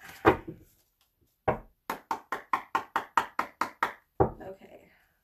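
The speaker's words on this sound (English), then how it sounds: "Gotta knock some of the energy out of these cards." A knuckle raps sharply on a deck of tarot cards during a reading, about ten quick close knocks in an even run, bracketed by a few heavier shuffling taps before and after.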